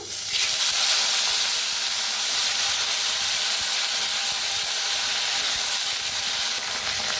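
Capsicum and potatoes dropped into a hot tempering of mustard seeds, cumin, asafoetida and curry leaves give a loud, continuous steamy hiss and sizzle, close and even, that eases only slightly over several seconds.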